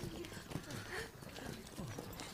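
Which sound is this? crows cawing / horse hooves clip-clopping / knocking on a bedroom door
horse hooves clip-clopping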